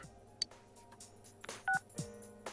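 Telephone ringing in the Persona 4 Golden video game: short electronic tones and beeps recur over a quiet game soundtrack, fairly faint, with no talk.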